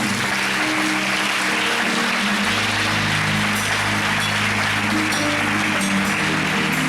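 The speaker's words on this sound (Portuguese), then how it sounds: "dê um lindo aplauso para o Senhor" A congregation applauds during a church service, a continuous loud wash of clapping with a sustained low musical drone underneath.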